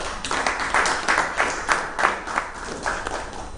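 Audience applause at a cancer and palliative care conference in Uganda, a steady burst of many hands clapping in a hall, loud and sustained for several seconds with faint talk beneath.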